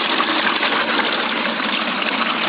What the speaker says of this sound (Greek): Όπως βλέπετε, πήρε κίνηση η μηχανή. Το νερό μέσα στο βαρέλι.